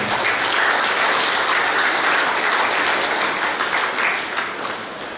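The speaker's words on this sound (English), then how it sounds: "Give a clap to Father." Audience at a Capuchin singing competition in Goa applauds a priest, dense steady clapping from a crowd that carries on throughout and thins slightly toward the end.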